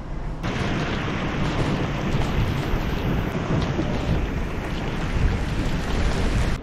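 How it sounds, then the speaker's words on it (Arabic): Sudden, very heavy rain pours down in a steady, dense roar that fills the whole stretch, close and loud, with low rumbling underneath and no voices. "مطرة جت فجأة كذا وقوية، قوية مرة."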